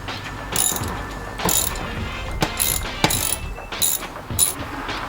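A ratchet works loose the heat melt bolts on a Subaru in-tank fuel pump and filter assembly, rapid metallic clicking in short repeated bursts with brief pauses between, close and fairly loud.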